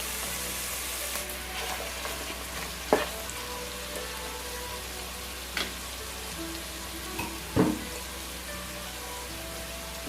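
Four finely chopped onions fry for prawn biryani, a steady hiss of frying oil with a few distinct scraping stirs and clunks at intervals, close and moderate in level, with no voices.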